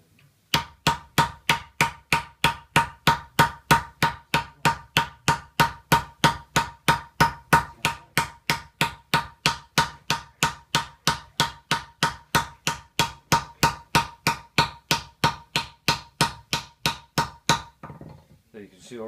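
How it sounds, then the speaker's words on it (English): Hammers shape a metal disc for a Guernsey milk can cover, striking in a fast, steady metallic rhythm of about three blows per second, close and loud, for roughly seventeen seconds before stopping. "Now I'll start to shape the disc just with these hammers here."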